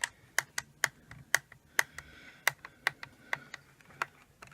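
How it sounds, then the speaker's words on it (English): About a dozen crisp plastic button clicks on a Back to the Future DeLorean model, evenly spaced and close, each a sharp isolated tick against quiet background. "I don't really know what these buttons do, so I'm just going to click away"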